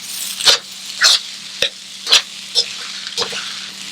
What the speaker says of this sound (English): You want to constantly stir your rice because you don't want it, of course, to stick to the bottom of the pot.